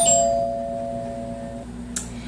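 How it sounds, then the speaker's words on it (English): A doorbell chimes once, a clear ringing tone that decays over about a second and a half in a quiet room, followed by a faint knock-like tap. "Someone actually knocked on the door, actually doorbelled."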